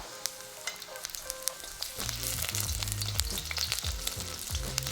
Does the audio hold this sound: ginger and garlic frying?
yes